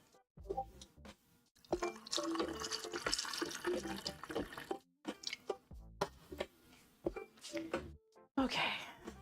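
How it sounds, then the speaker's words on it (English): King's Creek whiskey and Coke poured into a glass, a continuous liquid splashing and trickling stream close by, with short breaks and soft clinks, under and between people talking. "I'm going to do a whiskey and Coke now"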